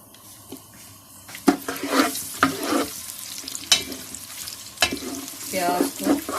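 Two medium onions frying until golden in a pan for Lahori-style nihari, with a steady sizzle broken by repeated scraping and stirring clatters, close and moderately loud, with no talking.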